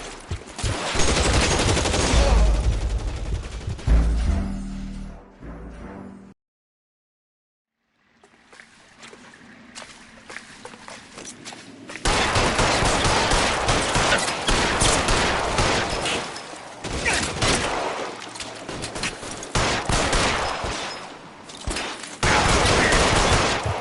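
Loud, rapid gunfire from a PS4 video game fires in dense automatic bursts and volleys. The shooting breaks off into a short silence, then resumes heavier and continues steadily to the end.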